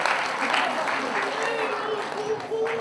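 A crowd at a Bhagavat Katha religious gathering claps along to a devotional chant, a steady wash of hands under singing voices and a sustained tone, with faint stirrings in the hall.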